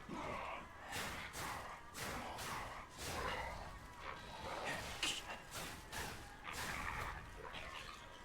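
Dog barking in the video game Lies of P, a repeated burst of barks and yips in a steady rhythm through the whole stretch, fairly loud, with crowd-like game noise layered beneath.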